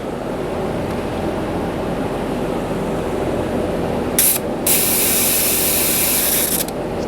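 Steady hiss of air escaping from a Pentair Pentek Big Blue whole-house water filter housing during a filter change, continuous and close, growing brighter and sharper partway through.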